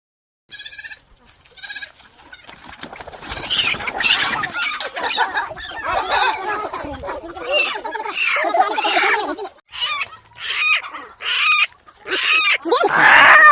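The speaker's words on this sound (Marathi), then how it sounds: "संदीप हे बघ कोंबड्याची पार्टी आता" Chickens cluck and squawk in busy bursts close by, several birds calling over one another, with occasional voices mixed in.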